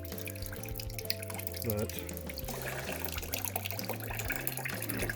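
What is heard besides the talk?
water draining from washing machine into a bucket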